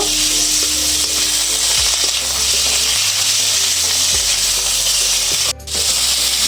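Chicken with ginger-garlic paste and chili powder sizzles loudly in a pan, a close continuous frying hiss with scraping stir strokes and a brief clatter near the end.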